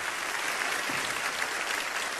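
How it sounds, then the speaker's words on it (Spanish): An audience at an awards event applauds, a dense, steady wash of clapping filling the whole short stretch at an even level, with no voices over it. "le pido un aplauso fuertísimo hasta el cielo"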